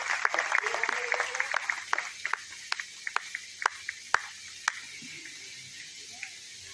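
An audience at a Haryana village cultural event honouring performers gives scattered applause. Dense clapping at the start thins into a few sharp, separate claps that fade toward the end.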